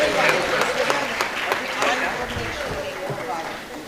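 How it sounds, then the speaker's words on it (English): An audience at a school board meeting claps in a moderate round of applause that gradually fades, with a voice speaking over it. "All right, one more round of applause."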